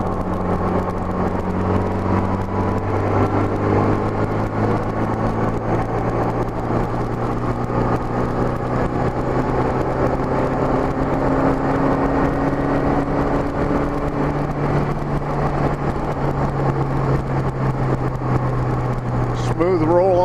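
A Honda GL1200 motorcycle engine runs at even throttle while riding, with a loud steady drone whose pitch climbs gradually as it pulls smoothly, with a shift near the end. Wind noise fills the background and someone talks over it.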